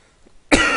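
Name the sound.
cough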